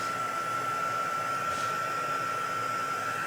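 A small handheld heat tool or dryer blows steadily to set freshly stamped ink, giving a constant whirring hiss with a strong whine, close and continuous.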